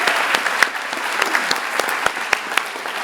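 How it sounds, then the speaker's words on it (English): An awards ceremony audience at a film festival gives a round of applause, with steady crowd clapping and a few sharper individual claps standing out. "Can we give another round of applause to Candace Bruder"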